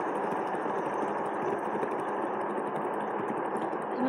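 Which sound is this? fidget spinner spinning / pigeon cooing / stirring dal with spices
fidget spinner spinning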